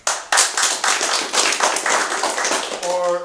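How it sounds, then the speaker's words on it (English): Audience clapping at a live show as a vote by applause, a burst of hand claps that starts abruptly and continues steadily for about three seconds, with a voice speaking briefly near the end. "So let's just do it by applause."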